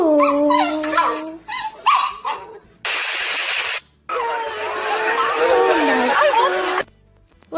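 A dog barks and whimpers in short bursts, close and fairly loud, with people talking and exclaiming over it and a burst of hissing noise midway.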